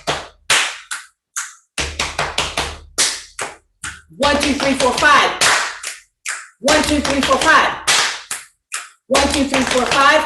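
Rhythmic sequence of sharp claps and finger snaps in short bursts with pauses, close and crisp, while a voice counts along between and over the hits.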